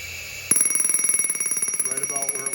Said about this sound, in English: Go ahead and bleed this off and make sure that my low air alarm